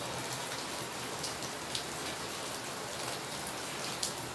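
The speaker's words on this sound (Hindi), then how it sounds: "बाहर बारिश हो रही तो आवाज थोड़ा आ सकती है" Rain falls outside in a steady, even hiss with faint scattered drop ticks, heard from indoors without any talking.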